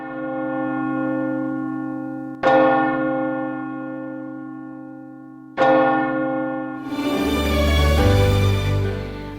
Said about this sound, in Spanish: escuchamos el Ángelus en Radio María